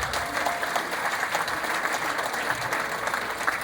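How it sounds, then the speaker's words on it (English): An audience at an Onam ballet performance claps continuously, a dense, even round of applause from a crowd that holds steady from start to finish. "Can we have a round of applause for that?"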